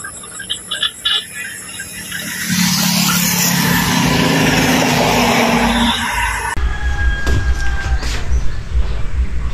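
A dash cam inside a moving vehicle picks up a steady road and engine roar that swells loudly, then shifts to a rougher, thumping rumble with scattered sharp noises.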